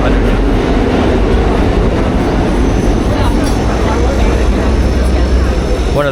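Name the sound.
subway train rumbling underneath the street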